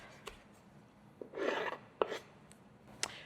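A knife cuts apple peels on a board, several soft scraping slices and light taps spaced apart, close and quiet.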